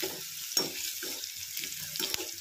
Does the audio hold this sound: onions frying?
yes